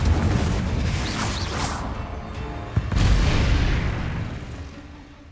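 Confringo spell in Hogwarts Legacy: a deep booming blast with a whooshing burst, a sharp crack near the middle and rumbling decay, loud and close with no voice.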